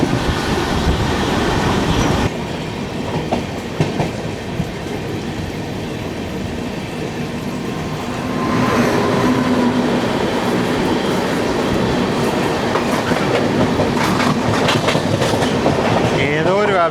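Train running on an Indian railway line near Jolarpettai, heard from aboard the Mangaluru Super Fast as another train passes, with a loud steady rumble, rattling wheels and clickety-clack swelling midway.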